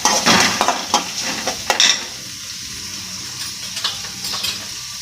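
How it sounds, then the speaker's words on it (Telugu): Chopped onion and green chillies fry in a pan while being stirred, with a burst of scraping and clinking at first that settles into a quieter sizzle. "బాగా వేపాలి."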